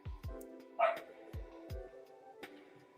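A pet dog barks several times in short, sharp bursts with a whimpering yip mixed in, fairly close, heard over soft background sound while a Championship Manager 01/02 game is being played, with no one talking.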